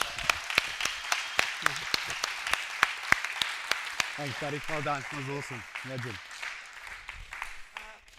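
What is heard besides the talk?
audience applause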